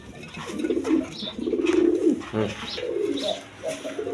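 Indian pigeons at a pigeon sale coo several times in soft, repeated low phrases, close by, over a quiet background.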